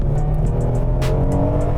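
A 2023 Hyundai Palisade engine accelerating in sport mode, a steady, loud, low drone from inside the cabin with one brief hiss partway through.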